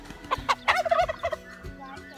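A domestic turkey gobbles once on a homestead, a close, loud burst of rapid throaty warbling lasting about a second, followed by quiet.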